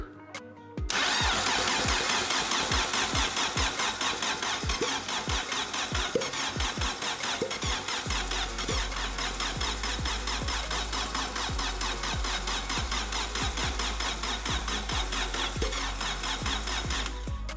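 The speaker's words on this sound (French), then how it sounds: "Un truc qui est pas mal d'insister comme ça au démarreur, c'est que tu fais forcer le démarreur." A starter motor cranks a turbo-swapped car engine at close range in one long, steady, rhythmic whirring run with a faint squeal, and the engine never catches.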